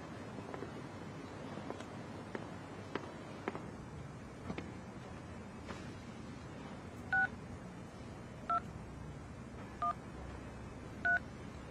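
Four short touch-tone telephone dialing beeps, evenly spaced over the last seconds of the clip, stand out loud and close above a steady background of wind and rustling noise.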